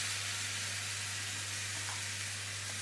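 Curry sauce with yogurt sizzles steadily in a hot pan while being stirred, a soft, continuous frying hiss with a low hum underneath.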